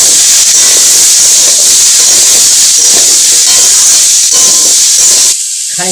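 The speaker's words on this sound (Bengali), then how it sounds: "এই আলু আর পেঁপেটা কড়াতে দিয়ে দিচ্ছি" Potato and papaya pieces hit a hot pan and sizzle, a loud, steady, close hiss that runs for several seconds before dropping away sharply.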